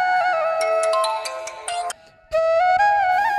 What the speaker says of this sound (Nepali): भान्जीको पो फोन आयो उतैबाट।